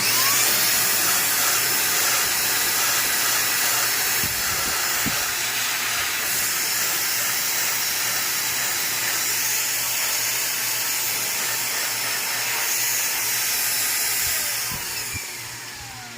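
An INGCO portable electric spray gun runs continuously with a loud, steady hiss and motor whine, close by, then winds down at the end.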